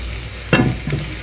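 A burger fries in a pan with a steady close sizzle, broken by two short louder bursts of spatter or scraping as it is moved, no voices.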